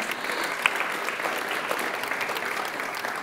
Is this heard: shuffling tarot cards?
no